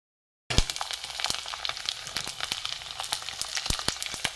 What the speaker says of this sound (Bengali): এগুলো আমি এখন ভাজবো, দেখতে থাকুন।